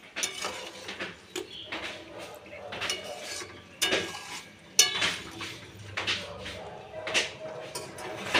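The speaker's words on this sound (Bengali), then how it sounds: "এবারে আমি নাড়াচাড়া করে নিচ্ছি একবার" A spoon stirs fish curry in a cooking pot, giving intermittent scraping and clinking strokes against the metal at close range, with a soft sizzle underneath.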